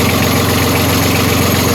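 A boat's repaired engine idles steadily and loudly at close range, a continuous mechanical drone with a rhythmic throb and no speech over it.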